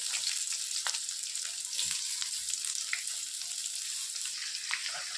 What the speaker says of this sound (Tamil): இதில் வந்து கட் பண்ணி வச்சுருக்க 2 பெரிய வெங்காயத்தை வந்து நம்ம வந்து ஆட் பண்ணிக்கிறோம்.